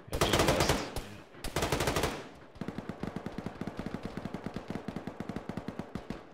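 Gunfire in the Arma military game from a ShackTac session: two dense bursts of rapid automatic fire, then a steady string of quick individual shots, loud and close.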